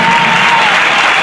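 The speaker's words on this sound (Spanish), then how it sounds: "un fuerte aplauso" Loud, dense applause from an audience at a flamenco-style concert in Córdoba, a steady wash of clapping filling the whole short moment without talk.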